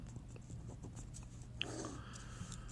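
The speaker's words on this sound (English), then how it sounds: "So I'm going to write here, I'm going to write amount" Hand writing on paper makes faint scratchy pen or pencil strokes, close but quiet, set against a steady low electrical hum.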